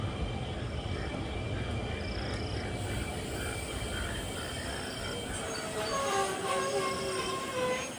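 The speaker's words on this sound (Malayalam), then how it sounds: "4:30 ട്രെയിൻ ഇപ്പോൾ വല്ലപ്പുഴ സ്റ്റേഷനിലേക്ക് ഇതാ എത്തുകയാണ്" Rajya Rani Express train on the Shornur–Nilambur line pulling into Vallappuzha station, a steady rumble of wheels and carriages with a rising squeal of brakes near the end.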